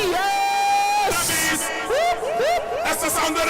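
Spectators at a police tug-of-war bout shout and whoop over loud music, with a burst of cheering and scattered yells rising through the second half.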